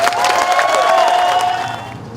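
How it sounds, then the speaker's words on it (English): Audience applause and cheering at a Paint The Town Pink Army Run breast cancer awareness event as a lieutenant approaches the podium, a loud, steady crowd roar with a faint whistle-like tone running through it. "please give a round of applause to First Lieutenant Andrea Graham as she approaches the podium"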